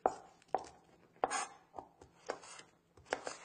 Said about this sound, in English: Get this nice and chopped up.